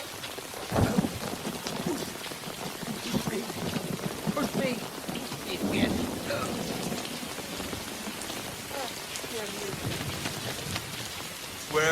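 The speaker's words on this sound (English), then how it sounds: "And on top of everything, it's raining." Heavy rain falls steadily with low rolls of thunder beneath it, while voices speak over the downpour.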